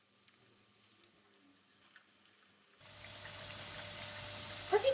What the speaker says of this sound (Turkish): Patateslerimi kızartıyorum öncelikle.